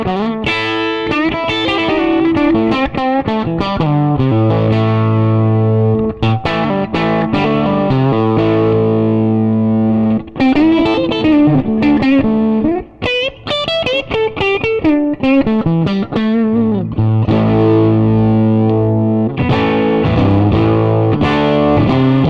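Electric guitar played through a Carr Rambler amp with the volume pushed about three quarters up, giving a loud, overdriven tone with sustained chords and single-note runs, steady and alone with no talking.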